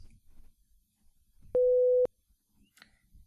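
A single pure electronic tone plays for half a second during a sensory memory lecture demonstration, steady and loud against near silence, with faint room noise around it.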